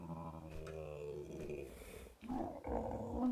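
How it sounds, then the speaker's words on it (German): Brood Mother boss creature in the video game ARK Survival Evolved growls in a low, rumbling drawn-out snarl, rising into a louder, rougher burst near the end, with no talk over it. "Das war eine Brutmutter."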